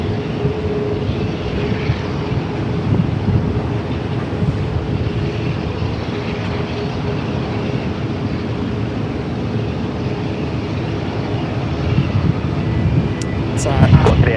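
Jetstar jet airliner taking off from runway 16 right at Sydney Airport, a steady, dense engine roar that fills the whole stretch and swells slightly louder near the end.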